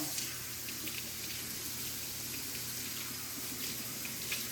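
Faucet water runs in a steady, quiet, even flow while a bleached hair wig is rinsed out in a sink, a soft continuous hiss with no speech.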